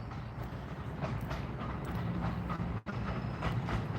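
A train rolls by near a highway, a steady broadband rumble with faint rhythmic clatter holding for several seconds, with one brief dropout near the end.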